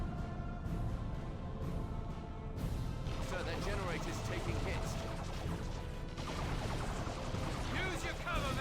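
Shuriken cannons fire in Dawn of War II: Retribution, a steady loud clatter of rapid mechanical shots and impacts that runs throughout, with explosions layered in and a commentator talking over it.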